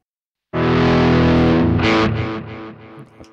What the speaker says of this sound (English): you can also, of course, adjust the time of the delay with this control